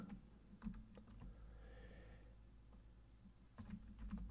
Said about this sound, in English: So I'm going to start typing in some SQL.